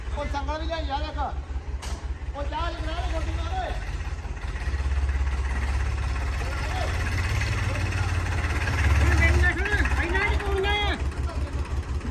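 A stuck tractor's engine runs throughout as a steady, loud low rumble that swells as it revs partway through, with people talking over it.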